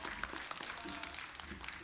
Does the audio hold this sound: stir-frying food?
no